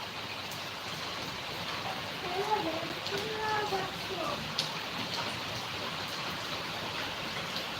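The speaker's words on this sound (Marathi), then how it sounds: "पाहू शकता कसा रिमझिम पाऊस चालू आहे" Light drizzling rain makes a soft, even hiss throughout, with a faint voice murmuring briefly in the background.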